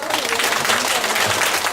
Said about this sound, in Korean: 뜨거운 감사의 박수 부탁드립니다